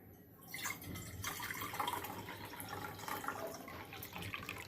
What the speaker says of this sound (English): I am going to take a water in this vessel.